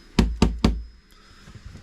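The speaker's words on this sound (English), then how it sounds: "You can hear Kira knocking." Three sharp, evenly spaced knocks on a steel boat during window preparation ring out close and loud, then fade into quiet room noise.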